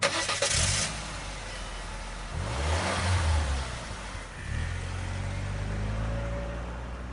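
A car engine starts and revs, then the car pulls away and accelerates, close and steady with no talk.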